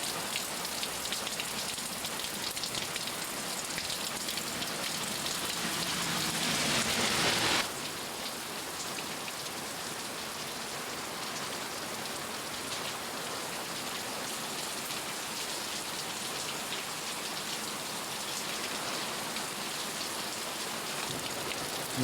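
Steady rain falls across a rural property, a dense continuous hiss of drops on surfaces, slightly heavier and louder in the first several seconds before settling into an even downpour.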